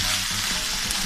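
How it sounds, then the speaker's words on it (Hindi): Mutton keema fries on high heat in a karahi, a dense, steady hiss of sizzling oil with soft stirring scrapes underneath, close and continuous with no voices. "ये थोड़ी तेज हीट पे इसको भूनना है ताकि ये और अच्छे से फ्राई हो जाए।"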